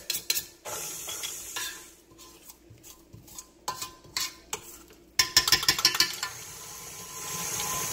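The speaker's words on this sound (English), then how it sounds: "So you want to scrape down as you are going through the process, trying to get your cream cheese and your butter to mix together." A spatula scrapes and stirs butter and cream cheese together in a mixing bowl for cake batter, with repeated scraping strokes that turn into a quick burst of clicking taps, close and fairly loud, with no talking.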